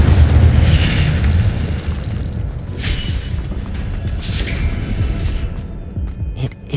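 An Incendio fire spell cast in Hogwarts Legacy video game: a loud booming burst of flame with a rumbling roar, followed by several whooshing flares and crackles.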